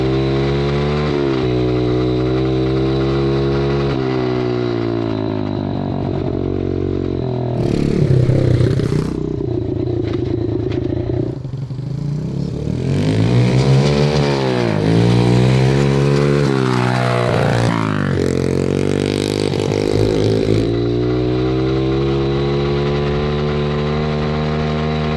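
A junkyard-built 110cc shifter mini bike runs nearby with a steady buzzing single-cylinder drone, then revs up and down through shifts in rising and falling sweeps before settling back to idle.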